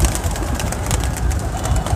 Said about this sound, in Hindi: बहुत बहुत अच्छे कबूतर हैं